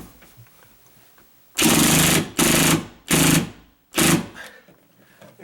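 Drill driving a screw through a drywall anchor into a wood stud: four loud, harsh rattling bursts about a second each, separated by short pauses, close to the microphone.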